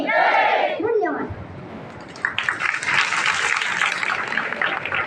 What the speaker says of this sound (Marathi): या शहरात सर्वांनी टाळ्यांचा गजर केला पाहिजे.